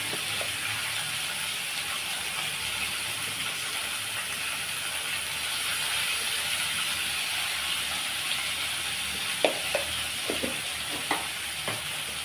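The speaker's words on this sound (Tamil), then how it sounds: "இதை நல்லா வதக்கி விடலாம்." Mixed vegetables for aviyal sauté in a pan with turmeric powder, giving a steady close-up sizzle and hiss. Sharp clicks and scrapes of stirring come in toward the end.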